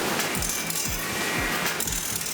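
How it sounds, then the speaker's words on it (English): A steam-powered sawmill's blades rasp metal on metal in a repeating mechanical rhythm, with regular low thumps and clanks about every half second under a dense, loud wash of machinery noise. "replaced by the steady rasping sound of metal on metal, like the sound of the wind"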